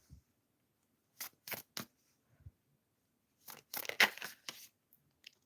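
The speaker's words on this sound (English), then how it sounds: "Let's shuffle some cards here." Tarot cards are shuffled by hand during a live reading, giving short papery riffling bursts in two separate groups with quiet gaps between them, close and soft.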